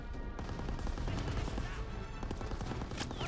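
Sustained machine-gun fire from a Call of Duty WW2 battle at a hillside bunker, a dense, continuous rattle of rapid shots mixed with other gunfire and explosions, loud and unbroken throughout.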